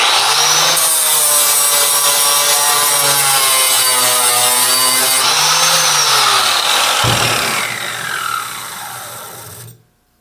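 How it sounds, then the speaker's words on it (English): Hand sanding a tractor cab roof with 150 grit sandpaper: a loud, steady abrasive rubbing that runs continuously for several seconds, then trails off quieter before stopping abruptly. "Now I'll get the sandpaper out, just smooth off the edges, feather that in a little"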